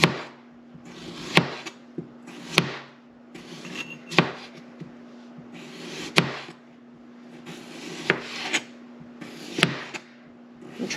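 Knife slicing potatoes by hand on a cutting board, a series of sharp close cuts spaced a second or two apart, with faint rubbing and sliding of slices between strokes, no talking.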